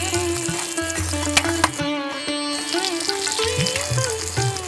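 Stuffed bitter gourds (bharwa karela) frying in a pan as they are turned over, a steady close sizzle with a few sharp clicks from the flipping, under tonal background music.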